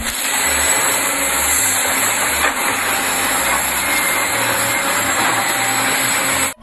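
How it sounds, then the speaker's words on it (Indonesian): Two excavators run nearby with a steady, loud engine drone and hiss, holding a constant level throughout with no talking. "Di sini ada dua eskavator atau dua mobil beko."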